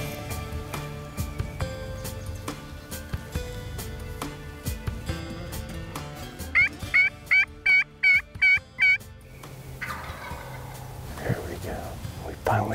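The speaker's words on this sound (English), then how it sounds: "First gobble we've heard yet." A wild turkey gobbler gobbles in a rapid burst of about six loud rattling notes in the middle, over a busy backdrop of other bird calls, with brief bumps before and after.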